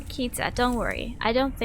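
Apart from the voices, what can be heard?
None of the usual background noises is heard.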